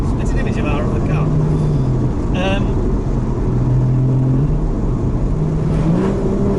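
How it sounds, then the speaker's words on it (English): Porsche 981 GTS engine with sports exhaust, heard from inside the car while driving, a steady loud drone with rising and falling tones as the revs change, with voices talking over it. "And you've got all this drama and action with the sports exhaust"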